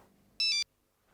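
A brief electronic ringing tone, bright and clear, sounds once for a fraction of a second over quiet room hum.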